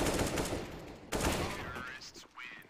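Rapid automatic rifle bursts in a CS:GO match, an AK firing in a tense one-versus-three clutch, dense crackling volleys that break off and restart, followed by a few sharper isolated shots and ricochet-like whines near the end.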